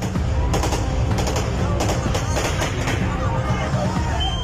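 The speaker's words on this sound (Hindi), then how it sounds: "अंधाधुंध गोलियां चलने की आवाज आ रही है" Rapid bursts of gunfire crackle through a dense, noisy crowd on a street in Afghanistan, the shots sharp and repeated over a constant din of voices and street commotion.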